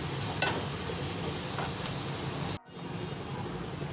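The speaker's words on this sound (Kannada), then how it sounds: "ಈರುಳ್ಳಿ ಎಲ್ಲ ಫ್ರೈ ಆಗ್ತಾ ಇದೆ." Onions frying in a pan for a Karnataka-style dill leaves dal sambar give off a steady, dense sizzle with a brief stir scrape near the start and a short break before the hiss resumes.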